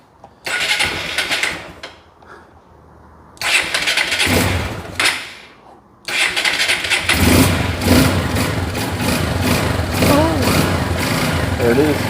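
A carbureted Chevelle V8 cranks in short bursts, then fires and settles into a loud, steady idle that runs on for several seconds, with people talking over it.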